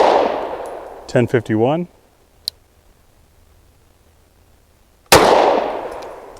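Two loud, sharp gunshots from a Sig 365 pistol ring out at a shooting range, each with a decaying echo, several seconds apart. Someone briefly speaks between them, and a faint tick falls in the quiet gap.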